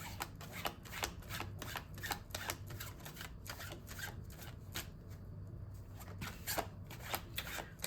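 Tarot cards are shuffled by hand in quick repeated riffles and flicks, crisp papery snaps close to the microphone, soft and steady with no talking.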